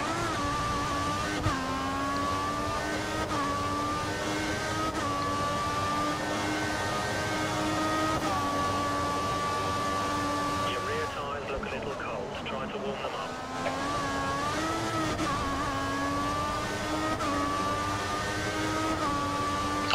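Formula 1 cars circle the Sochi track during qualifying in F1 2014, the engine whine rising and falling through gear changes across the whole stretch, with talk running over it.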